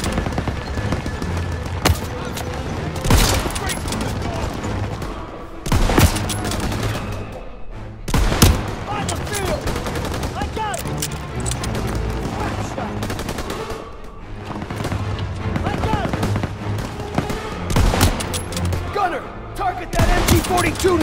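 MG-42 machine gun fire in the video game Call of Duty: World War II, dense and continuous bursts mixed with booms and battle noise, with shouted voices over the din.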